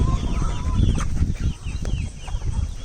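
Chickens cluck and squawk in a chaotic flock at feeding time, a dense close jumble of calls and chirps with scuffling and low rumbling noise underneath, the birds crowded together.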